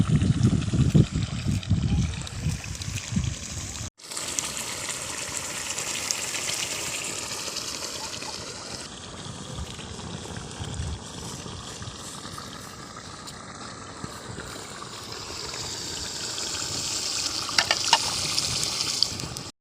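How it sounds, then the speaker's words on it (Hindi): A river running high with floodwater close to the bank, a steady broad rushing and gushing wash that stays loud and continuous throughout, with no talk over it. "ये देखिए दरिया कितना ज़बरदस्त लग रहा है, पानी बिल्कुल करीब आ गया है"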